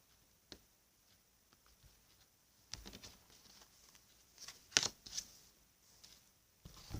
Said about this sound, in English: let me cut this Sage Goddess Gemstone Oracle deck card for y'all